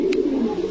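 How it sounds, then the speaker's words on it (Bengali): Homa breed pigeons coo at a busy pigeon market, a steady low cooing running through the whole moment with a brief higher chirp near the start. "এগুলো তো হুমা জাতের কবুতর"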